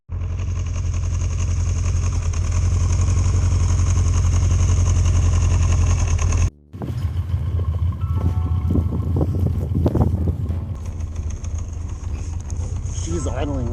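Motorcycle engine idles low with a carburetor still frozen in a blizzard, a loud, steady rumble for several seconds that cuts off abruptly, followed by gusting wind noise and scattered clatter.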